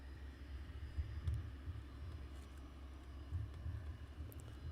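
A faint, distant low rumble of an aircraft taxiing at Luton Airport in fog, droning steadily with slight swells.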